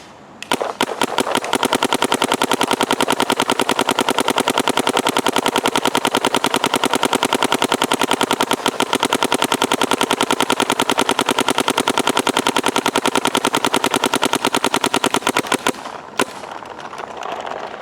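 Rapid, steady burst of paintball marker fire shooting green HK Army tournament paintballs at just under 300 feet per second, loud and close, a fast continuous string of shots for about fifteen seconds before stopping into quiet room noise.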